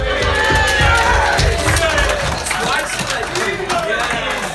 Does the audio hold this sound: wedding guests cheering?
yes